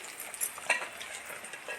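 Dried red chillies crackle and sizzle briefly in hot oil for a mango rice tempering, a soft, close frying hiss with a few small pops.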